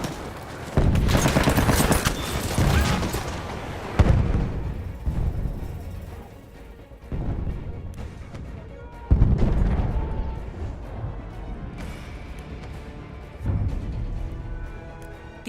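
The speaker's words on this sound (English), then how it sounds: "Mitrailleuse ennemie en vue." Battlefield 1 combat: bursts of machine gun fire and heavy explosions roll in repeated waves over about fifteen seconds, loud and dense, with booming impacts punctuating the rattling gunfire.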